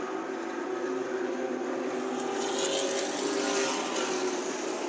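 Race cars roaring around Kern County Raceway, a steady loud engine drone with a rising, passing swell partway through and no pause.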